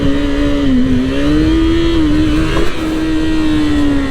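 A Yamaha R6 5EB sport bike engine holds a high, steady, loud drone with slight pitch wavering as the rider keeps it up in a stand-up wheelie, close and continuous.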